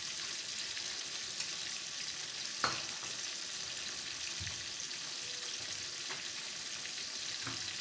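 A tablespoon of garlic paste frying in a pan, a steady soft sizzle with a few faint stirring clicks, no talking.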